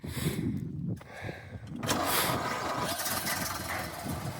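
A 1930 Ford Model A engine cranks briefly, then catches and settles into a steady, loud running rumble close by.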